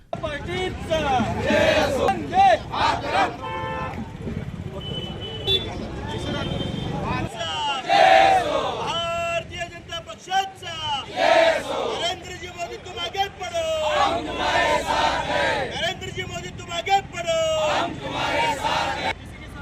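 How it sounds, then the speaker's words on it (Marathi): BJP workers in Solapur celebrate a central government decision on a caste-based census, with a loud, close crowd shouting and cheering in bursts over a continuous babble of voices. "सोलापुरातील भाजपच्या वतीनं एकमेकांना मिठाई भरवत जल्लोष करण्यात आला"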